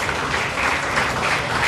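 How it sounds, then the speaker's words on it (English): Crowd at a radio station Christmas party clapping in a brief, loud, continuous burst of applause, close and dense throughout. "Give me a round of applause, ladies and gentlemen."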